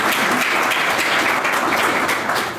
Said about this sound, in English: I think we owe a round of applause to David Shuchuk?